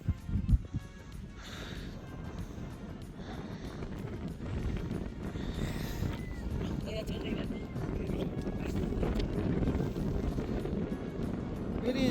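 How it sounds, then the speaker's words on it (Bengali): Strong cold wind on a high Ladakh mountain route near Puga valley during a bike ride, a continuous roaring buffet on the microphone that swells and gusts throughout, with a voice talking faintly underneath. "প্রচণ্ড ঠান্ডা হাওয়া চলছে"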